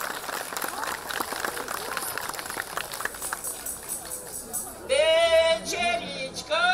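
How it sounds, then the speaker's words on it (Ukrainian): Audience applause for the folk ethnographic group Krynytsia: dense, steady clapping fills the hall for several seconds, then voices break into song over the fading applause near the end. "Ваші оплески народному фольклорному етнографічному гурту «Криниця»"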